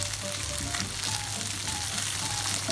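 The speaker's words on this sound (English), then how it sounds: "So letting my gnocchi brown up a little bit here and there and gets a bit of a crispy" Gnocchi browning in butter in a pan give a steady, close sizzle with a low hum beneath and no voices, for a buttery parmesan gnocchi dish.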